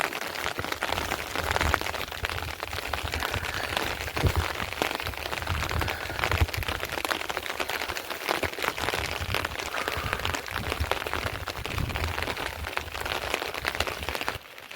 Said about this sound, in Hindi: बारिश होती हुई कंटिन्यूअस।